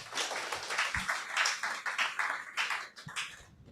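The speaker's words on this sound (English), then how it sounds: "Can you please welcome them and clap for them very quickly, please?" Conference audience at a leadership colloquium clapping together in a brief welcoming round, dense overlapping claps lasting a few seconds at moderate loudness, with a couple of low thumps.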